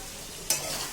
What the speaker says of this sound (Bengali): আমি আবারও মাংসটা নেড়ে দেব।